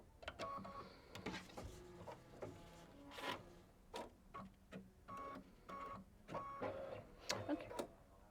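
An embroidery machine running white thread stitches a placement outline for a leather die on a quilt block. It makes fast, irregular clicks and mechanical bursts with short pauses between, quiet and close, and no one speaks.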